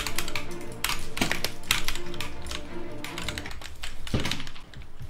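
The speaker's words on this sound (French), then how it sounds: "désolé si tu t'entends mon clavier" Rapid clacking of a computer keyboard, close and loud, with bursts of keystrokes and short pauses, no voices.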